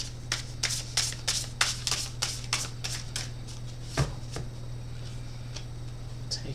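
Large tarot cards being shuffled by hand, a rapid run of crisp riffling flicks through the first few seconds, then sparser single card slaps and soft handling over a steady low hum, with no talking.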